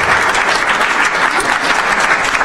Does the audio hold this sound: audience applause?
yes